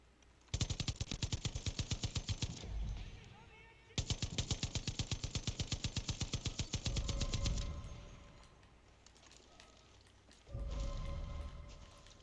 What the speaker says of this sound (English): Player can even use the mounted gun to, at their advantage,